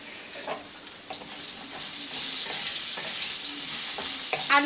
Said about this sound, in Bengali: আলুগুলো ভাজার সময় এর মধ্যে একটু হলুদ আর লবণ দিয়ে দেব।